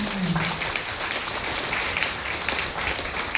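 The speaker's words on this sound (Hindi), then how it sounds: "आप लोग जबरदस्त ताली ज्ञानों के लिए।" An audience at a DXN success-story event bursts into applause. Dense clapping continues evenly at close range, with a brief voice near the start.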